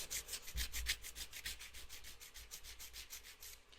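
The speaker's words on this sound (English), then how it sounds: "When you're filing, you want to make sure that you're holding the hand file straight and with a firm but slower file." A hand file is stroked back and forth across coffin-shaped acrylic nails, a quiet close rhythmic rasping of about two strokes per second, repeated evenly without speech.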